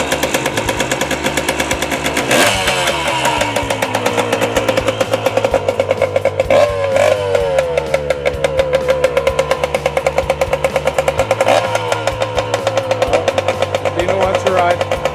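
1979 Kawasaki KM100 motorcycle engine running, a loud rapid two-stroke putter close by with throttle rises and falls, while a voice talks over it.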